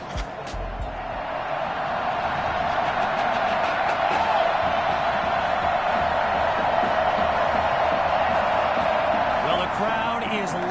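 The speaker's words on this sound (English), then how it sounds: "the crowd is loud and on its feet as Ricky Sutherland gets things started." Stadium crowd roaring steadily in NFL 2K21, a loud continuous wash of cheering and noise filling the whole stretch with no let-up.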